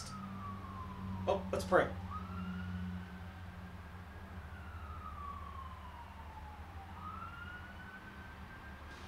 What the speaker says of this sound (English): I always pray when I hear rescue vehicles, fire trucks, something like that.